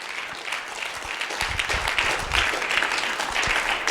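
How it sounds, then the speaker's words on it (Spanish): Congregation applauding during a church service, a steady wash of many hands clapping that swells slightly midway and carries on without pause, fairly close and moderately loud. "Aplausos al Señor."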